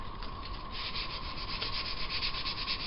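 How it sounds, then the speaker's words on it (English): Sandpaper of about 150 grit is rubbed by hand along a steel saw blade being made into a fillet knife, producing a soft, continuous close-up scratching hiss with a faint rhythmic back-and-forth pulse throughout. "So now, just using some sandpaper,"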